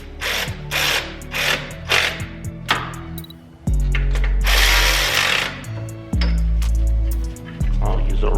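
Power tool tightening bolts on a BMW E46 engine during head gasket work, with repeated whirring bursts and ratcheting close by, alternating with bursts of speech.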